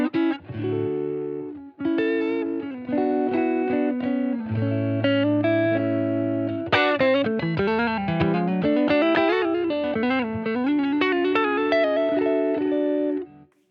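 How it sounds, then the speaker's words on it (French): Electric guitar played on a clean base tone through a pedalboard, clear chords and melodic single-note runs with light chorus and reverb, close and unaccompanied, no talk. "Ça, là, on est sur mon clean de base"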